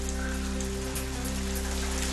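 Heavy monsoon rain in Barshi taluka, Solapur, pours down in a steady, dense hiss of drops hitting surfaces, loud and unbroken throughout, heard without any voices.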